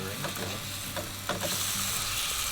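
Dinner frying and sizzling in a pan at a campsite, a steady close hiss with occasional stirring scrapes and clicks throughout, no talking.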